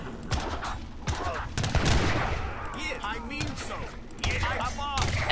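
Troops firing muskets and cannons in Age of Empires III, a dense run of overlapping gunshot volleys and booms throughout, with shouting voices mixed in.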